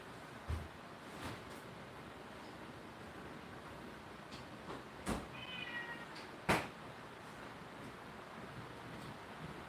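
A house cat gives a short, faint meow amid quiet room noise, with a few scattered knocks and thumps around it; no speech is heard.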